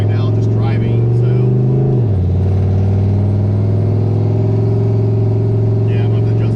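A boosted 4.8 truck engine running lean in open loop hums loudly as it pulls out into traffic, its pitch dipping after a shift and then holding a steady drone; a voice talks over it.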